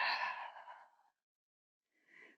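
A long, breathy exhale held in a yoga backbend, fading over about a second, then a short intake of breath follows after a silent pause.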